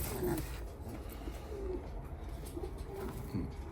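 Young pigeons of show breeds such as Müsevet, Şam, Hünkari, Karyağdı and Modena coo in a loft, a few soft low calls recurring through steady background noise, with no talk over them.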